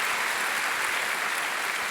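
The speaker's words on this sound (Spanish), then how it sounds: "¿Por qué no le damos un fuerte aplauso?" Church congregation clapping in a full, loud, continuous burst, an even roar of many hands with no gaps from start to finish.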